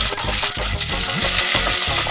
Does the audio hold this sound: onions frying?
yes